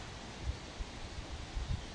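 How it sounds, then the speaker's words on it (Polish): Steady wind rushes past the microphone with low gusty rumbles and no voices. "piękny wiatr"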